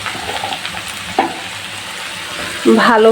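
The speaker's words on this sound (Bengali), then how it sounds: "তেলের সঙ্গে মশলাপাতিগুলো কষিয়ে নেব" Turmeric and chilli powder frying in oil for a Dhaka-style egg biryani, a close, moderately loud sizzle with a few scrapes and a louder burst near the end, no one talking.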